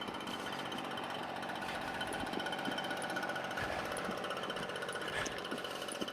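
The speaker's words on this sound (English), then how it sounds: "I'm going to be passing by somebody who's using the leaf blower." A leaf blower runs nearby outdoors as a steady, loud, continuous drone with a rough mechanical buzz, holding level throughout with faint clicks and knocks on top.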